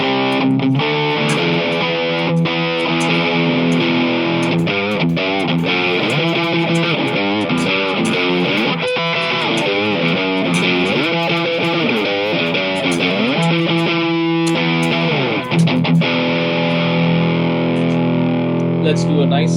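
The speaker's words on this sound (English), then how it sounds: "Exactly that Les Paul sound. Bridge pickup." Distorted electric guitar, a 2019 PRS McCarty 594 Hollowbody II, with a bright, biting bridge-pickup tone, playing busy riffs and chords continuously, loud and upfront.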